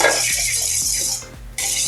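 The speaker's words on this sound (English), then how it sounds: "Give it a nice whisk." A whisk scraping and ticking rhythmically against a bowl while vinaigrette is mixed, with quick regular strokes under a steady background hiss, close and clear.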